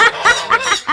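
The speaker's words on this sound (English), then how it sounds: "Silky fowls. And they're so furry." Silkie chickens cluck loudly and close by in a quick, rhythmic run of about five short bursts. No talk is heard.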